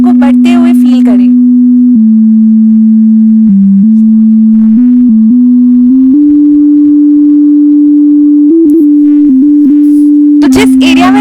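A steady electronic tone from the Seeing AI iPhone app's light detector hums continuously, stepping up and down in pitch and gradually rising higher as light increases, with brief Hindi speech at the start and end.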